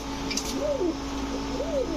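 White owl pigeons coo in slow, rising-and-falling phrases, two distinct coos sounding close by over a steady low background hum.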